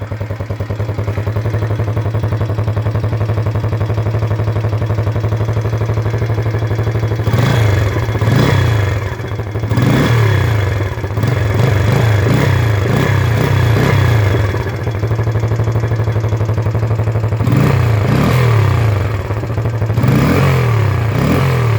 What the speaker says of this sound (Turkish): Egzozun sesi bu şekildeydi arkadaşlar.